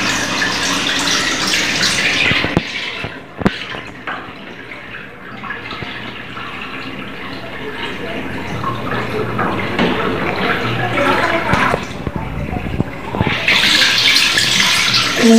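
Tap water runs into a bathroom sink while someone brushes their teeth with bar soap, a loud continuous splashing hiss that dips briefly in the middle and surges again near the end.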